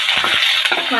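Chopped onion fries in oil with turmeric, giving a steady, loud, close sizzle with brief stirring scrapes over about a second.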